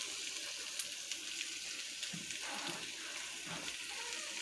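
Water is poured into a pan of browned chicken for a stew, a steady close splashing gush with faint sizzling underneath.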